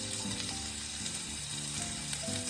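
Sliced pork sizzles on okonomiyaki cooking over medium heat, a steady close frying crackle with small pops and scraping, and no voices.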